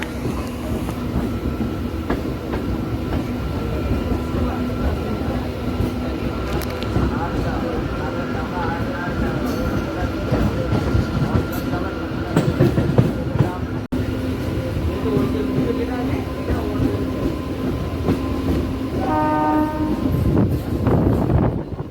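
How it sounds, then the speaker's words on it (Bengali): A Panskura–Digha EMU special local train pulls away from Panskura, with a continuous rumble of the moving carriages and a horn sounding near the end, while people talk over it. "আমাদের এই Panskura Digha EMU special train Panskura থেকে ছেড়ে বেরোচ্ছে"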